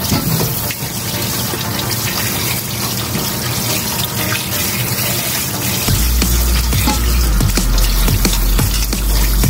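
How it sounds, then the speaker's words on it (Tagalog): Tap water runs hard and steadily into a sink while raw chicken meat is washed for samgyetang soup, a loud, close gushing hiss. The flow deepens and thickens about two thirds of the way through. "Hugasan ng mabuti guys itong karning manok, saka natin ilagay pag kumukulo ng tubig."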